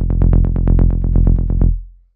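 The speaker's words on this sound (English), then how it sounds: "So this is just a standard rolling bass." A standard rolling techno bass synth on F, pulsing in fast, even 16th notes with bright plucky attacks, loud and alone, stopping after about two seconds with a short decaying tail.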